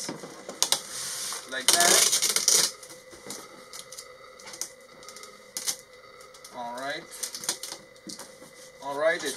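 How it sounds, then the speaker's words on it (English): Packing tape pulled and pressed onto a cardboard box being sealed for a prize draw, with several short bursts of ripping and rubbing sounds up close, mixed with speech. "I'm just going to close this up here so I can give it a good shake and then pull out a winner. So I'm just taping this"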